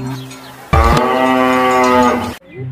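A single long electronic moo from a toy cow, loud and close, holding steady for over a second before cutting off abruptly.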